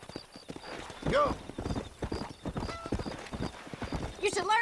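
Horse hooves clip-clopping in Red Dead Redemption (mobile) as a rider heads toward a cow pen, with a horse whinny, game voices talking over the steady hoofbeats.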